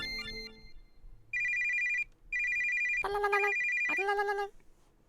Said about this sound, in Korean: 전화가 울리네 누구지?